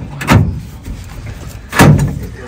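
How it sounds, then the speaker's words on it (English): Two heavy metallic thuds and rattles from the stuck driver's door of a 1970 Dodge wrecker, forced from inside the cab, one near 0.3 s and a louder one near 1.8 s, close and without talk. "I mean, that door is stuck."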